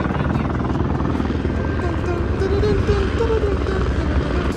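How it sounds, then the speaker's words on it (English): Helicopters fly near an Alaska cruise stop, giving a steady loud rotor drone and engine hum that lasts throughout. "Look at all the helicopters, y'all."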